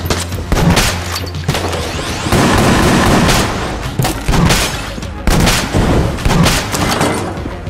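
Rapid gunfire from the video game Enter the Gungeon, dense bursts of loud popping shots and booms firing almost continuously, with brief pauses between volleys and occasional talk in the background.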